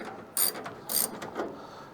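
A ratchet breaks loose a Phillips head screw on a steering wheel shaft, giving two quick bursts of clicking close up with no one speaking.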